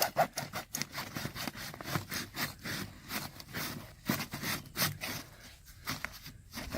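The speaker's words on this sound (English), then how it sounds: "We're just going to cut right through the pipe" A saw cuts straight through corrugated plastic drainage pipe in quick back-and-forth strokes, producing a rhythmic rasping and scraping at moderate distance that stays fairly quiet throughout.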